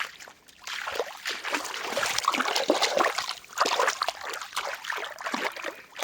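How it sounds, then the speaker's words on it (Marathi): Water from a stream trickles and rushes into a muddy spot nearby, a fluctuating splashy flow that swells and eases in uneven surges. "तिकडून पाणी येतंय बघा तुम्ही"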